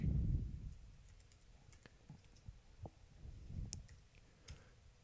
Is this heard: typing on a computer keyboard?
yes